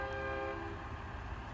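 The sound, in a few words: truck train horn blast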